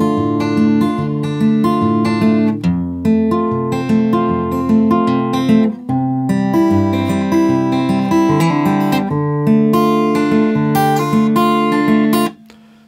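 An acoustic guitar plays the verse of a song, with steady strummed and picked chords changing in a loose rhythm, close and full with no voices, before stopping abruptly.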